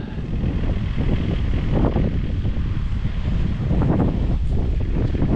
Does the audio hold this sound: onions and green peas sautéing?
no